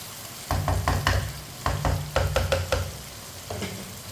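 Potatoes frying in a pot while a spoon stirs them, with repeated scraping strokes against the metal in uneven bursts over a steady low sizzle, close and fairly loud with no talking.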